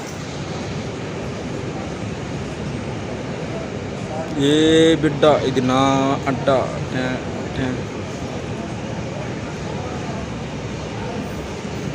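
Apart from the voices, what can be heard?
train moving slowly through a station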